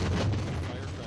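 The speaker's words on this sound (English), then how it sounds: "Firecrackers are going off." Firecrackers going off in a movie, a loud dense burst of crackling bangs and booms packed together over about a second.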